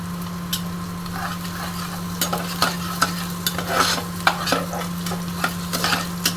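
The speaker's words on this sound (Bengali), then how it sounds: "এবার রসুন আর আদাটা অল্প ভেজে নেব।" Chopped garlic and ginger frying in a pan, a steady close sizzle with intermittent scraping and stirring clicks from a utensil, no voices.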